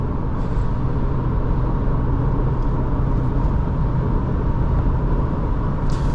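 Steady engine drone and cabin road noise inside a 2024 Subaru Forester Wilderness cruising on the highway, a continuous low rumble holding level throughout with no talk.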